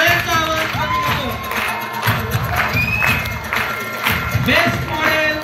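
Spectators at a college beauty contest cheer and clap for the best model winner, a lively wall of applause laced with shrill whoops and shouting voices, steady and close.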